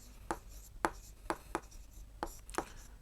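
A cross-multiplication step written out on a board during a math lesson: a run of short, crisp scratching strokes in an uneven rhythm, close and clear over faint room hiss.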